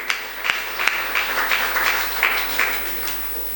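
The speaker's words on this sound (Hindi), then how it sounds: "ताली तो बजा लो अपने साहेबपुरा वालों के लिए।" A small gathering claps in scattered, uneven bursts, a few distinct hand claps standing out against a low steady hum.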